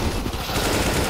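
Rapid automatic gunfire in CS:GO on the de_dust2 map, a dense continuous burst of close, loud shots filling the short moment.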